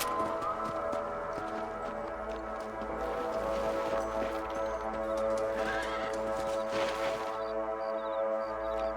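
Horses in the Red Dead Redemption video game neigh and clip-clop over a steady bed of game music and ambience, with a louder burst of hooves and whinnying midway.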